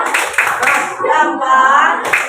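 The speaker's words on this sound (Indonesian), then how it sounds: "kasih tepuk salut" A school class performs a rhythmic group clap, short bursts of hand claps alternating with voices chanting along in a loud classroom setting.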